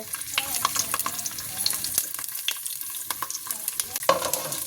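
Fenugreek seeds and onions frying in oil for a fish curry: a continuous loud sizzle with dense crackle and stirring scrapes throughout, close up and without any talking.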